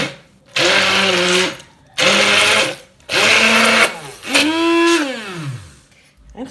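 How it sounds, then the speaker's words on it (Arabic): A blender or mixer runs in four bursts while salt, black pepper and flour for a savory shortbread dough are blended, each burst a loud steady whir lasting about a second, with the last burst winding down in pitch. "ونحكموا البران تاعنا نخلطوا"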